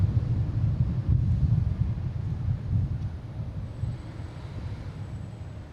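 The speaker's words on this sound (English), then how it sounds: "next taking off, we have a JetBlue. Heading to West Palm Beach, an A220, flight 2321." A JetBlue Airbus A220 jet taking off from Boston Logan, heard as a steady low rumble with heavy wind buffeting that holds for several seconds and eases slightly toward the end.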